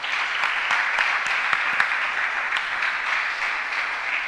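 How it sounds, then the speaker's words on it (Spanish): A church congregation applauds for volunteers during a sermon, a steady, dense wash of clapping that holds evenly throughout with no voices over it. "Un aplauso para ellos, por favor"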